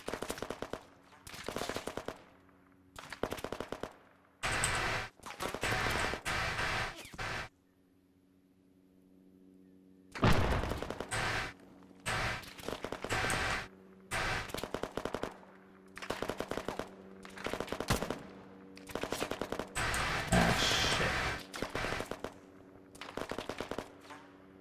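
Bursts of machine gun fire in the military shooter Arma 3, loud sustained automatic volleys repeating one after another with a few short pauses, including one longer quiet gap, heard without talk.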